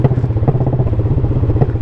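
A motorcycle engine braking on a backroad makes a close, loud, rapid burbling pulse, steady and rhythmic throughout with no voices.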